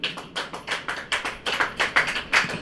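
A church congregation claps in steady rhythmic bursts, about a dozen sharp clusters of hand claps close by, with no talk over them.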